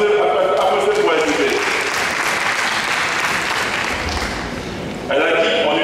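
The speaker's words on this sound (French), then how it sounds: "Applaudissez pour elle." A conference audience in Benin claps loudly and steadily, a dense burst of applause that dips briefly near the end before picking up again, with some voices under the clapping.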